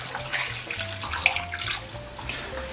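Water pours steadily into a porchetta roasting dish that already holds white wine, a close, continuous splashing trickle heard on its own for a few seconds.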